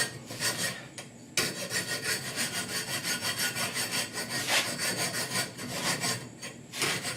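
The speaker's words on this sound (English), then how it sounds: "I like filing anyway" Steady back-and-forth rasping of a metal file across a sheet metal edge, rhythmic strokes repeating continuously and close up, with a brief pause near the start.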